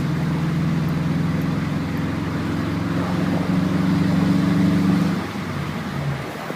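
A 2011 Subaru WRX engine pulling in fourth gear up toward 3,000 RPM, heard from inside as a steady droning hum over road noise that holds, then eases off as the throttle lifts near the end.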